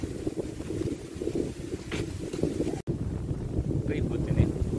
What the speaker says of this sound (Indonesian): Anginnya kencang ya.